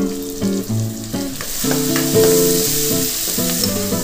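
Beans and carrots frying in oil with salt, a steady sizzle with stirring as the vegetables half-cook, partly masked by tonal music over the sound.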